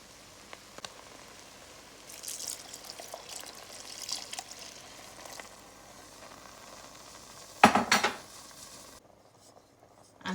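Curry sizzles in a pan as it is stirred after coconut milk goes in. There is a steady low fry hiss with scraping stir strokes and a loud splashy burst of pouring and bubbling near the end.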